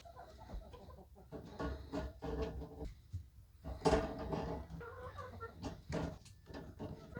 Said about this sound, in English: Hey, Bella, you want to go see your chickens?